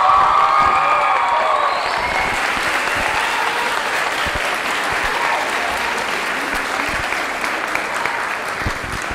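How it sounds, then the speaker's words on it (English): Loud, steady applause and cheering from a graduation audience, with scattered whoops and shouts above the clapping, fading slightly after the first couple of seconds but continuing throughout. "give your teachers a big round of applause"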